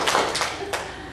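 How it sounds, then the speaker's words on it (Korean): An audience at a Korean church sermon gives a brief burst of hand clapping, a few quick close claps lasting about a second. "박수 한번 치세요"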